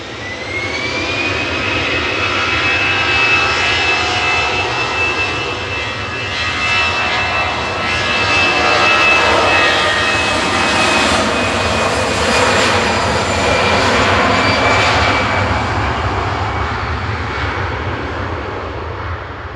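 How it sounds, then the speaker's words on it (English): An easyJet Airbus A320 Classic, fifteen years old, departs Manchester Airport bound for Belfast, its jet engines roaring loudly and steadily for the whole stretch, swelling and easing a little with a rising whine high above the rumble. "Next up for departure though is EasyJet to Belfast with flight 701"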